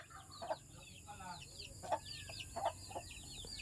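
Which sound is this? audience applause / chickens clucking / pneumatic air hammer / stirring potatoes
chickens clucking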